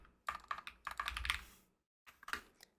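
Typing on a computer keyboard while coding a Python and Flask stock-trading interface: two quick bursts of close, crisp key clicks separated by a short pause.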